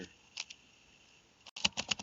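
Keys clatter on a computer keyboard, two quick taps, a pause, then a brisk burst of several close keystrokes.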